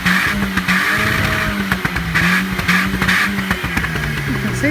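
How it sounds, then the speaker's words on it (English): Talbot camper engine starting with a touch of throttle, a loud close mid-pitched engine note rising and falling unevenly as it revs, with a voice briefly audible over it. "Just let me give it a touch of throttle when I'm starting it."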